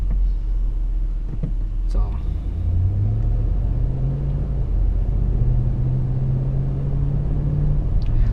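A 2008 Hummer H2 on BFGoodrich All-Terrain KO2 tires cruises at high speed with a constant low tire drone and road rumble inside the cabin. A rising whine builds over the steady roar.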